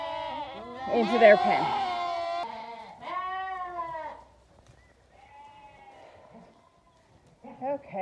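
Spring lambs bleat loudly and repeatedly in a pen during weaning, several overlapping calls close by, with quieter pauses between them and a person talking briefly at the end.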